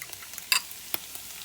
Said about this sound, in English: now that we got our sausage and our potatoes in there, we're going to let that cook a few minutes